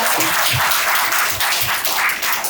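An audience applauds Madenur Manu on stage. The clapping is dense and loud and continuous, with faint voices mixed into the crowd.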